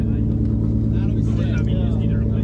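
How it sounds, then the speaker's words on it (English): A drift car's exhaust with the muffler removed rumbles loud and close, holding a steady, deep, throaty drone throughout, with voices faintly mixed in. "this is a way more manly exhaust than you had before"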